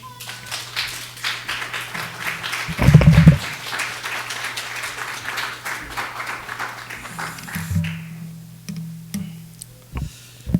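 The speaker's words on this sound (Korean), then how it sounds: "목사님 나오실 때 우리 환영의 박수로 목사님 맞이하도록 하겠습니다." Church congregation gives a welcoming round of applause for the pastor, soft scattered clapping under a low hum, with a louder burst near the start that thins out toward the end.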